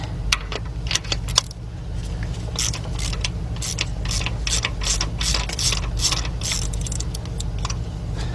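A ratchet wrench loosening bolts on the engine of a Hyundai XG350 during spark plug and ignition wire work, giving quick, close metallic clicks in irregular bursts over a steady low hum.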